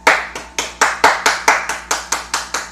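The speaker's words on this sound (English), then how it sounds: "Clap for Daddy." A baby boy claps his hands close to the microphone, about a dozen crisp, evenly spaced claps in a steady rhythm with no talking over them.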